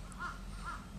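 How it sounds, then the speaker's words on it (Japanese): Two harsh caws from crows nesting in a forest ring out in quick succession, faint and somewhat distant. "カラスがたくさん、飛んでいます。"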